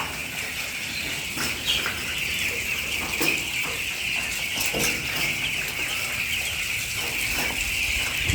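Eleven-day-old chicks in a poultry shed keep up a constant high-pitched peeping and clucking, with brief flutters and scratching sounds at moderate distance.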